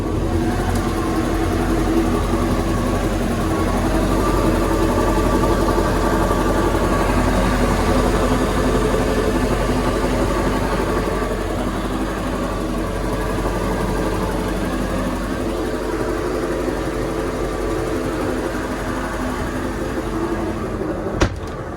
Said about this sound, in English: turn the key to start the engine